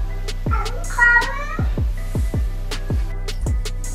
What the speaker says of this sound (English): some of these cat sounds resemble human speech in English